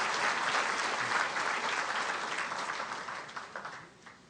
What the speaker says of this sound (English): Come on, big applause for them.